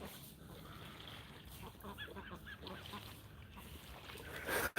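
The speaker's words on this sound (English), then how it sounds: "here comes the ducks now" Ducks on a lake giving quiet, repeated honking quacks from a distance, faint under a low background hum, growing louder toward the end.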